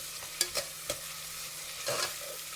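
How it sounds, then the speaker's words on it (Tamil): Sliced onions for mutton biryani sautéing in a pan, a soft steady sizzle broken by a few sharp scraping stirs, close and fairly quiet with no voices. "ஸோ வெங்காயம் வந்து நல்லா வதக்கிடணும்"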